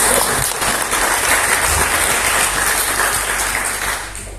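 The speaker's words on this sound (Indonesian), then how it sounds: "Boleh tepuk tangan sekali lagi." A studio audience claps in a steady, dense round of applause lasting a few seconds, fading slightly at the end.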